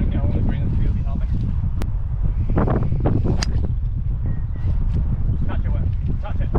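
Wind buffets the microphone on a golf course in a steady low roar, with faint rustling and a few sharp transient knocks, while people talk in the background.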